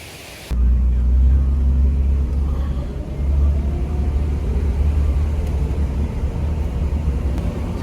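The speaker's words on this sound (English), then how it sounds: "So get back to the Jeep and get on the road." A Jeep cruising on the road makes a loud, continuous low engine and road rumble that starts abruptly after a brief quieter moment and holds steady.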